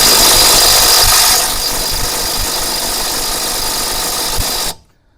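An ELTOS cordless impact wrench runs loud and continuous against a stubborn bolt, its pitch dropping slightly partway through, then stops sharply.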